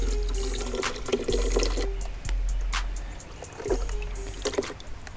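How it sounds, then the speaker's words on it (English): Water and live minnows are poured into a cooler outdoors, giving close, continuous splashing and gurgling with a few brief pauses and renewed gushes. "Let me pour them in my cooler here."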